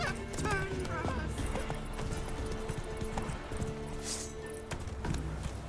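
Roach the horse's hooves in The Witcher 3, a steady clip-clop running under a constant wash of game sound, with a voice speaking over the top.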